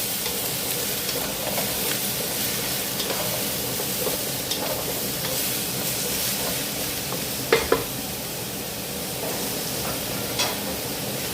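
Food sautéing in a pan, a dense continuous hiss of frying close by with scattered faint stirring scrapes and a couple of sharp clinks near the end, no one speaking.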